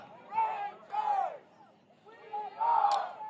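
Crowd at a Southern Prep homecoming 8-man football game cheers and shouts in two loud swells, a dip between them, then a third surge near the end, all fairly distant and blended with broadcast chatter.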